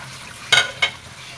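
Fish pieces in mustard masala are stirred in a small pot: two quick scraping stirs half a second apart over a faint low sizzle.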